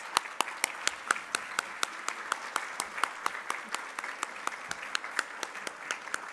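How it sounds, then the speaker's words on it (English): Audience applause for board members standing at an award and scholarship fundraising gala, a steady round of clapping with sharp individual claps, moderately close and continuous throughout. "allow our audience to give you a great round of applause for recognize all your hard works"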